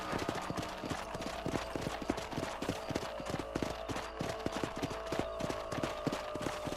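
Horse hooves clip-clop at a steady trotting rhythm on a ranch in the Red Dead Redemption video game, close and continuous, with a faint musical drone underneath.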